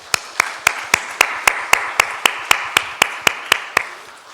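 Steady, evenly spaced claps from a church congregation, about fifteen sharp beats in a regular rhythm, close and clear with no talking.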